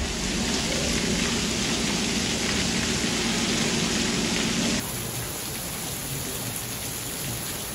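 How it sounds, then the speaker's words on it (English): Heavy rain pours down over New York City during flash flooding in a dense, continuous hiss that shifts slightly partway through. No voices are heard. "heavy rain causing flooding at some subway stations in New York City"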